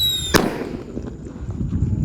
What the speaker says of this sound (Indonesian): kita nyalakan mercon whistling thunder. Kita tutup dengan baskom